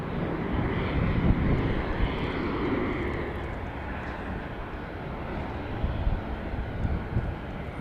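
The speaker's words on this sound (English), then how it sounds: "a MAX 8 coming in from Nashville" A Boeing 737 MAX 8 airliner inbound from Nashville arrives at Dallas Love Field, its jet engines producing a broad, loud, steady roar that holds throughout with wind buffeting on the microphone.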